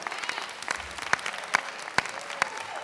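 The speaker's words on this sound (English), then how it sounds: "Let's give them a round of applause for sticking with us all day long." Scattered audience clapping at a live-streamed CBTU 2019 convention session, a thin patter of hands with a few sharper claps standing out, fairly distant and brief, with no voices over it.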